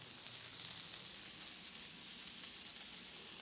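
Burger buns spread with mayo sizzle steadily on a low-heat Blackstone griddle, a constant close hiss and crackle of frying with no talking.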